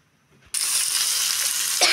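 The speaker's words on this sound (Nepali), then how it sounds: "टमाटर तेलमा बनाउँदैछु" Tomatoes hit hot oil for a momo achar with a sudden, loud sizzle that holds as a steady close hiss for the rest of the moment.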